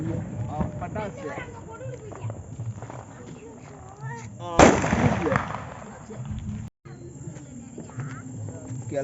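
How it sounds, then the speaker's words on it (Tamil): A single sharp firecracker bang bursts out midway through continuous chatter on Diwali night, with a brief crackling tail, close and loud. "பட்டாசு."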